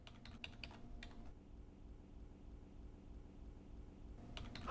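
Computer keyboard typing in brief clicking bursts at the start and again at the end, separated by a low steady hum, fairly faint and with no talking.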